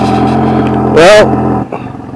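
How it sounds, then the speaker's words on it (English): Engine of an old Cummins diesel truck revving hard during a burnout attempt, a steady low drone that surges into a loud, rising rev for a moment, then drops back, with people talking over it. "we're trying to do a burnout."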